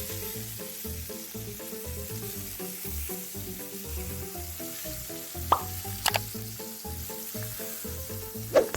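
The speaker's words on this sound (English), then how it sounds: "Make sure that the oil is hot enough and the meat part of the fish should be fried first" Hot oil sizzles and crackles steadily, with a few sharp pops and spatters, while faint background music plays underneath.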